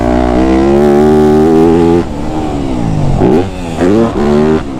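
Yamaha YZ250F four-stroke dirt bike engine revving loud and close, a steady high rev that drops and then surges in repeated blips with rising and falling pitch, with no voices.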